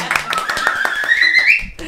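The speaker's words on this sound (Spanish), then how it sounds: "Aplaudidores, por favor." Rhythmic hand claps from the audience at a live folk concert, a quick steady beat of close claps under a sung or spoken voice.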